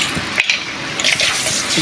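Water is poured and splashes into a basin to rinse feet during a homemade foot spa, a loud, close gush with brief breaks and continued splashing.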